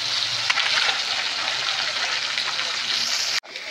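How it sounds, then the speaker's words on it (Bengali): Pieces of pangas fish frying in hot oil, a dense continuous sizzle with faint crackles, close and steady, cutting off briefly near the end before resuming. "ভালো মতন ভেজে নেওয়া হচ্ছে"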